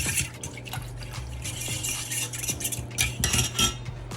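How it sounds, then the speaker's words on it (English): Ginger soy sauce ingredients, including cornstarch, are stirred together in a bowl, with quick irregular clinks of a utensil against the dish and faint liquid sloshing, close and fairly quiet. "we're just going to mix all these ingredients together real quick"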